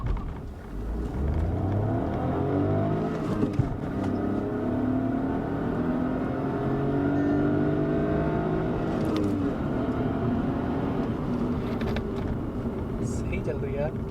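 Skoda Slavia sedan accelerating hard with traction control switched off, engine revving toward about 4000 rpm. A loud, continuous engine drone climbs steadily in pitch through the gear and stays close and dominant throughout.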